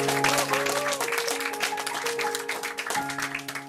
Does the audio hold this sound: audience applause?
yes